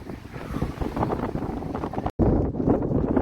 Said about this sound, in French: Bon, désolé pour le vent, mais je ne peux pas faire autrement.